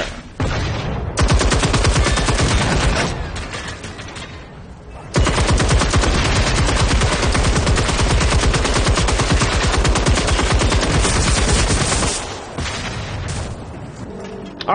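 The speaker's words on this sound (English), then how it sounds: "Oh, I have a machine gun." Sustained, loud automatic machine gun fire from a video game rattles in long continuous bursts, with a brief pause near the start and a softer stretch toward the end.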